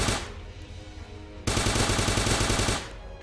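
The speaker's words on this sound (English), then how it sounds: "Let's shoot these fish." Rapid automatic gunfire rattles out in a sustained loud burst while shooting fish in the video game Starbound, following a quieter stretch of game ambience.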